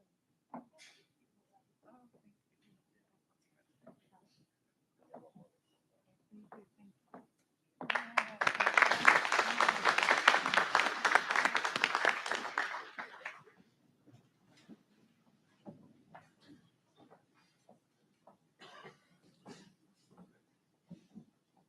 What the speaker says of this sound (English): Let's give a huge round of applause for our retirees and our staff that just received tenure.